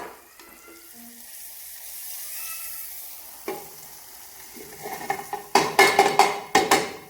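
Masala sizzles in a pan while dal cooks, a soft frying hiss building into sharp metallic scraping and clanks as a spoon stirs, loudest toward the end.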